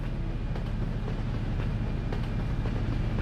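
A train rumbling past nearby, a steady low mechanical roar with faint rhythmic clacks throughout, no voices over it.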